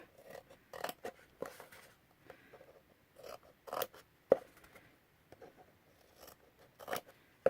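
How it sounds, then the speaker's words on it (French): Scissors snipping along the edges of a paper pencil-pot craft, a run of short, crisp cuts in irregular bursts, close and fairly quiet, with no talking. "je coupe au niveau des arêtes"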